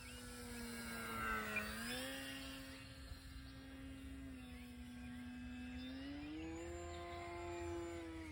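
An E-flite RJ Gritter Decathlon model airplane flies at half throttle with a steady, buzzing electric motor drone that rises and falls slightly in pitch as it passes, faint and distant throughout.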